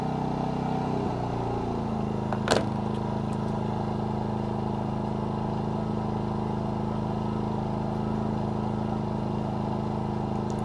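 A MaxpeedingRODS 4000-watt dual-fuel generator hums steadily in low idle mode, a continuous, fairly quiet drone heard close by with one brief click near the start.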